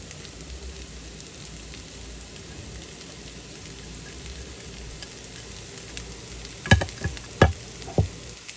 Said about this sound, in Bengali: যে এখন আমি দিয়ে দিচ্ছি এই যে পেঁয়াজ কুচি।